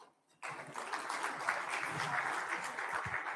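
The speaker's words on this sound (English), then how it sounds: "let's give a round of applause one more time." A conference audience at a cyber and electronic security event bursts into applause after a brief quiet, a dense, even wash of clapping that holds steady and fairly soft from a distance for the remaining seconds.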